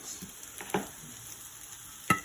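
Stir-frying a Chinese spicy and sour stir fry over a gas burner: a low sizzle runs throughout, broken by a few sharp scrapes and clacks of a utensil against the pan.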